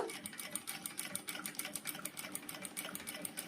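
Jack industrial sewing machine stitching at setting 5, a fast steady rattling needle rhythm running continuously and close, moderately loud.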